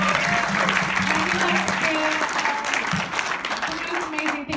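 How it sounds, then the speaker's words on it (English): Applause at a film premiere Q&A in a cinema, an even wash of clapping from the audience with voices talking over it, tapering toward the end. "can we give Lido a big clap?"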